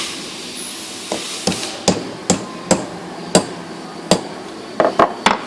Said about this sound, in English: you can just hammer that back in and it'll go nicely through the hole